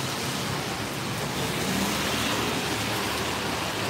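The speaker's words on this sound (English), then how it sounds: "Still raining." Steady rain falling on a street in Singapore's Katong and Joo Chiat area, a constant broadband hiss close around, with no talk.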